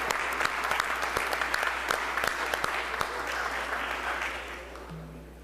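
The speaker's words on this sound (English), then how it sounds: "Let's give them one more round of applause." An audience in a House chamber applauds with dense, steady clapping and a few louder individual claps, close and loud at first, then thinning and fading away.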